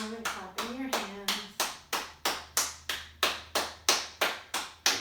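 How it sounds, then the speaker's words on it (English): Hands clap about a dozen times in a steady, even rhythm, each clap sharp and close, with a voice speaking at the start. "Coming all the way down and clapping your hands."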